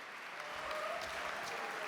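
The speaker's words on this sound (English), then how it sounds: "Round of applause for the contestants." A studio audience claps for game show contestants at a live quiz event, a steady wash of applause held at moderate level for the full stretch with no voices over it.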